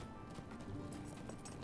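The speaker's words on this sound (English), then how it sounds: "when you're riding your horse and you end up going through it because you're bouncing too much" Horse hooves clip-clop in a steady rhythm while riding in the Lord of the Rings Online video game, continuous and fairly close under a low game soundscape.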